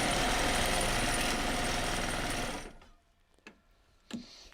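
Sewing machine running steady and loud while winding a bobbin, humming continuously for a few seconds before stopping, followed by a few faint clicks and knocks.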